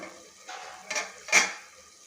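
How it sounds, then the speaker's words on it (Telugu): Onions being stirred as they fry in a pan for a dried fish curry with tamarind leaves, three soft scraping strokes of a utensil against the pan at a steady pace, close and fairly quiet, with no talk. "అప్పుడప్పుడు ఇలా ఉల్లిగడ్డలని అయితే కలుపుకోవాలి"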